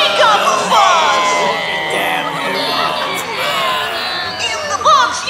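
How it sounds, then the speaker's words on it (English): Cartoon villains packed into the stadium stands kick up a fuss, a dense crowd hubbub of shouts, whoops and chatter that stays loud from start to finish. "And villains kick up a fuss."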